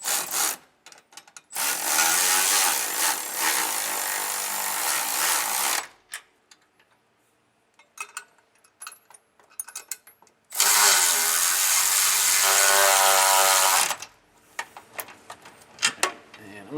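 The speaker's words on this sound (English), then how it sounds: "All right, I'm gonna snug these down. I'm using a 9/16 wrench and socket." Ratcheting wrench and 9/16 socket snugging nylock nuts down over flat washers while installing a Demco Air Force One brake system on a 2026 Renegade coach; two long bursts of steady close ratchet clicking separated by quiet handling noises.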